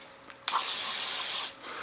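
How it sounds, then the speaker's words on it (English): A spray can of silver paint lets out a single close, loud hissing burst lasting about a second, then stops abruptly, with no talk. "I was supposed to have, like, silver spray"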